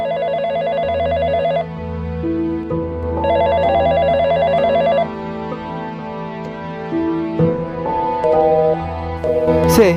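A telephone rings in repeated electronic bursts with short pauses, loud and close, set against a steady music bed in a dramatic story scene about calling a son's mobile.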